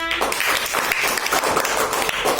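A group claps for a participant during a classroom-style food recognition game, brisk overlapping hand claps forming a fairly loud, continuous patter close by, with a brief voice at the very start.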